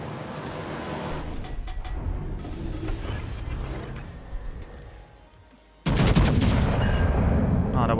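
A naval video game plays battleship gunfire as heavy booming shots over a continuous rumble of engine and sea noise. The sound drops away briefly, then comes back with a loud, dense blast near the end.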